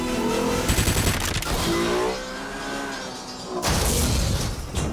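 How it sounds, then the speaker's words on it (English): Gunfire during a car chase on busy mountain roads in the 2008 Bond film Quantum of Solace; loud bursts of shots and impacts over roaring engines and film score, with a brief lull before more firing. "Eventually, the chase ends when Bond remembers he has a gun."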